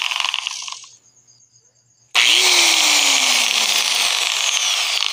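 An angle grinder with a repaired gear whines to a stop and goes quiet, then starts again with a sudden loud, steady high-pitched whir that runs on near and alone, with no talking.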